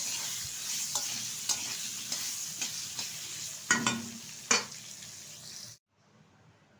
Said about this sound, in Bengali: পটল আর আলুটা কিন্তু ভালোভাবে একটু ভেজে তুলে নেবো একটা পাত্রে